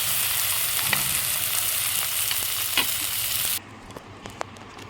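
Prawns and taro leaves sizzle steadily in a frying pan, a dense close hiss with a few light stirring knocks, then the sizzle drops away sharply near the end leaving faint scrapes.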